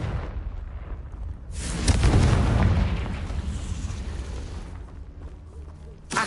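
Confringo fire spell blasting in the wizarding game Hogwarts Legacy, a loud booming explosion that swells and rumbles for several seconds against a steady backdrop of game noise.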